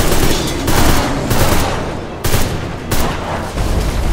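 Loud gunfire in the video game Deadfall Adventures: several heavy bursts of rapid shots, close and dense, each burst lasting under a second with brief lulls between.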